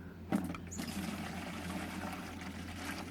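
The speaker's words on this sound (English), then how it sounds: "Just about 300 mils into the watering can, fill the watering can up." Seaweed solution pours into a garden watering can, a steady close liquid stream and gurgle after a short splash at the start.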